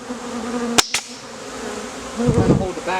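A honeybee swarm hums steadily during a swarm rescue as comb frames are handled, with two sharp knocks near the start and a louder, rougher burst of buzzing toward the end.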